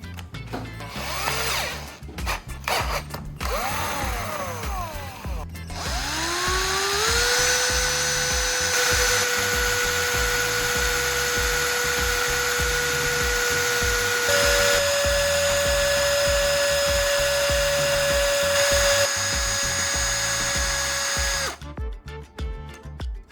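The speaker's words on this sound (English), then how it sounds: "I'm going to attach it to a drill and start mixing everything thoroughly" An electric drill whirs steadily at a high, constant pitch while mixing white PVA glue and silicone, shifting speed once partway through, after a short stretch of handling noises at the start.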